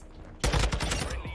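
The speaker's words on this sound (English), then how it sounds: "Literally every single gunshot is giving me feedback" Rapid gunfire in Call of Duty MWII, a burst of loud overlapping shots that starts abruptly after a quiet lead-in and keeps going as dense fire with sharp repeated cracks.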